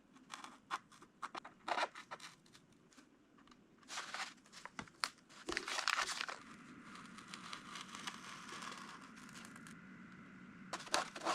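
A blade cuts open the covering film on a model RC plane wing, giving irregular close crinkles, crackles and scraping snips, some sharp bursts and some softer rustling, and no talking.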